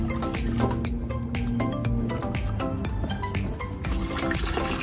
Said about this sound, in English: So now I'm gonna bring the pump out.